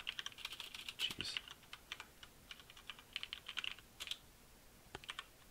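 Typing on a computer keyboard while setting up software on Windows, with quick bursts of close, light key clicks separated by short pauses, faint overall.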